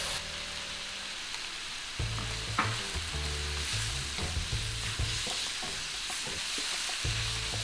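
Ginger and capsicum stir-fried in a hot pan with steady close sizzling, interrupted by repeated scraping and clattering strokes of the stirring utensil throughout, no voices.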